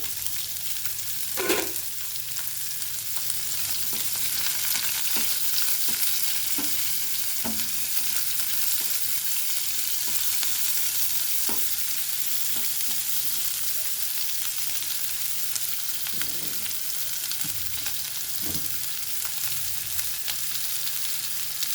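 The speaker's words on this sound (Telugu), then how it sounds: "ఇప్పుడు ఉల్లిపాయ పచ్చిమిర్చి వేసేద్దాం" Sliced onion and green chillies frying in a pan for a radish and tomato curry, giving a constant, fairly loud sizzle throughout, punctuated by scattered spatula scrapes and taps.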